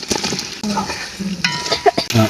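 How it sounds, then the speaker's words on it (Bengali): Spoon stirring fried meat into spices in a cooking pot, close scraping and clinking strokes with a soft sizzle, a few uneven pushes over a couple of seconds. "এখন ভাজা গোস্তগুলো মশলার মধ্যে দিয়া ভালো করে কষাইলাম"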